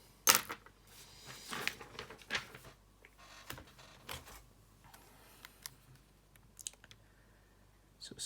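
Calculator keys pressed by hand, a quick, irregular run of small plastic clicks and taps, close and quiet, with short pauses between bursts and no speech.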